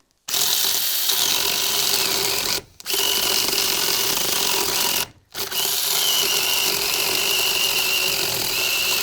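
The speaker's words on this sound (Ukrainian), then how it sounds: "Якось тако, напевно, треба пилити." A power saw cuts through a piece of oak wood, a loud continuous buzzing whine broken by two brief pauses as the cut restarts.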